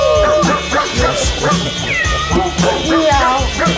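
A person imitates a cat, producing a run of loud, close meows with rising and falling pitch, set against a busy television studio backdrop with some talk.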